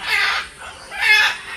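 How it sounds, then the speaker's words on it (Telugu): Parrots in a zoo aviary let out two loud, close, harsh squawks separated by a short pause. "ఈ సౌండ్స్ అన్నీ కూడా ప్యారెట్స్ చేస్తున్నాయి."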